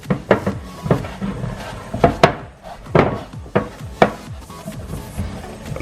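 Spoon or spatula scraping dry dough off the sides of a mixing bowl while making Jamaican boiled dumplings, a series of close, sharp scrapes and knocks in an irregular rhythm.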